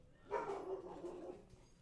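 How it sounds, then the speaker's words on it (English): A dog in the next room gives one muffled, faint bark that trails into a short whine, heard distantly through the walls. "My dog is barking in the next room."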